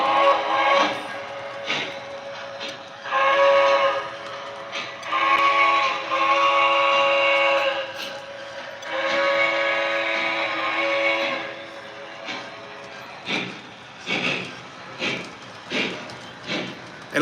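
A model steam locomotive whistle sounds in several long and short blasts over the chuffing of the engine, close and loud.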